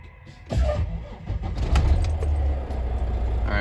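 A semi truck's engine cranks and catches after a roadside regen, rising from a quiet cab into a loud, steady low rumble, with a jingle of keys near the start.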